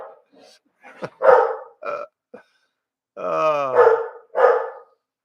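A man imitates dogs with his voice, giving a run of short, gruff barks and growly burp-like yaps in bursts separated by pauses. The sounds are close and loud, with one longer, drawn-out howling bark near the end.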